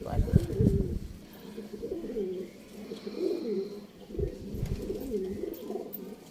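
Low, throaty cooing from domestic pigeons, older breeding birds in a hobbyist's loft, rises and falls in repeated bursts alongside people talking nearby.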